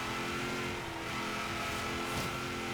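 A supercharged LS V8 car engine in Forza Horizon 3 holds a steady loud roar with a sustained drone, revving under load throughout.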